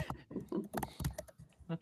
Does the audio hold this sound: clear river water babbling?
no